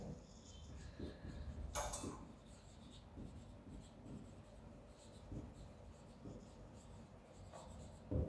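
Chalk or marker taps and scratches steadily on a classroom board as a teacher writes extra theory notes for a Class 12 integrals lesson, faint and close, with irregular strokes and a few louder knocks.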